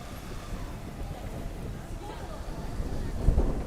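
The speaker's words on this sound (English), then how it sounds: "the wind is pretty harsh at times" Harsh wind outdoors in Okinawa buffets the microphone with a steady low rumble that swells toward the end. The gusts are close and continuous.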